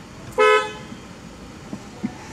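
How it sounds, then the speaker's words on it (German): A car horn at a McDonald's drive-thru gives one short loud blare, followed by faint small knocks and the quiet hum of a stationary car. "Wenn der aufhört zu hupen, gerne."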